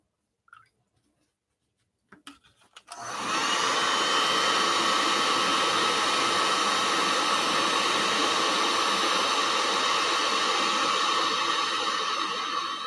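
A heat gun blasts hot air onto a brass ring on a mandrel, switching on after a few faint clicks and handling sounds and then holding a loud, steady, close rushing roar to the end.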